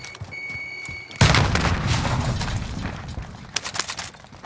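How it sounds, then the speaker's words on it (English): A grenade blast in Call of Duty Warzone on the Caldera map: a sudden loud boom after a quiet tonal stretch, then a rumbling tail with a few sharper cracks near the end. "Grenade's flying."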